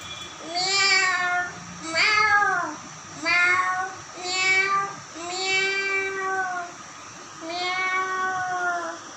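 A young voice mimics a cat, giving six drawn-out meows in a row with short pauses between them, close and clear.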